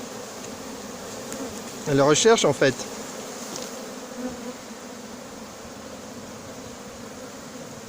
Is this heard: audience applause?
no